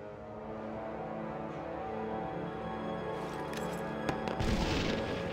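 Grenade explosions in a shooter video game on an iPad, heard as a burst of booming blasts and crackling debris near the end over a steady game soundtrack.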